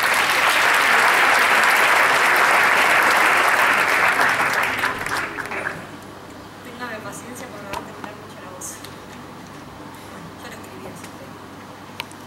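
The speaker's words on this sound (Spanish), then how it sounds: "Recibamos con un aplauso a Irana Dauer." Crowd applause greets a speaker at a Pecha Kucha night, loud and dense for about six seconds, then fading into scattered claps and quiet room noise.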